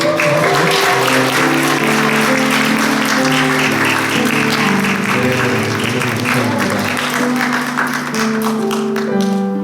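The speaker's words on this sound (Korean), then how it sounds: "박수 한번 좀" Church congregation breaks into dense, sustained applause that fills the room steadily and loudly for the whole stretch, with music playing underneath.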